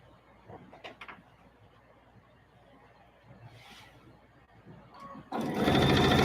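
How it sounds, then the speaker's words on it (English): A serger starts up loudly near the end while sewing jelly roll quilt strips, after a stretch of quiet handling and faint rustling. "I love making these on a serger."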